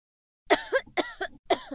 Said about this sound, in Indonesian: batukmu kok tidak kunjung sembuh ya?